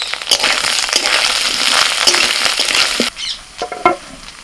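Potatoes and taro are sautéed with salt, turmeric, chilli and cumin powders in a pan. A loud crackling sizzle runs alongside scraping spatula strokes, then fades to quieter stirring and a few clanks, with no talking.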